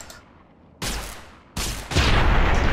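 Explosions go off in Fallout: New Vegas: a faint rumble, then two sudden loud blasts less than a second apart, each trailing into a broad roaring decay.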